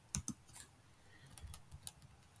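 Quiet typing on a computer keyboard, a handful of crisp key clicks in quick irregular bursts, close and soft, with no talk.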